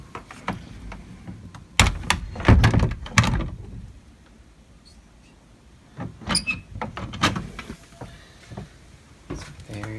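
Original doors in an old house are handled in two bursts, giving loud clunks, creaks and rattles a few seconds apart with quieter room tone between them.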